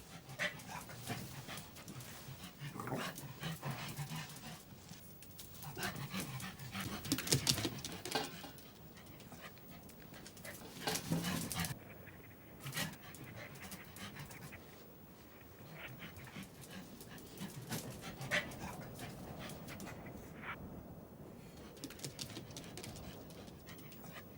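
Young coyote pups in a forest pant, whimper and yip softly in scattered bursts, fairly faint with quiet gaps between them.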